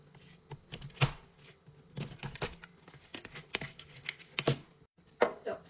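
A knife chops tart ingredients into pieces, making a run of quiet, irregular cuts and clicks with a few louder knocks against the board.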